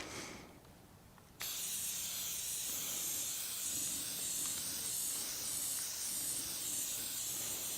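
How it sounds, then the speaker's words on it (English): A spray paint can hisses in one long continuous burst after a brief quieter moment, a steady airy spray that holds to the end. "you want to spray it until you can't see any of your original color"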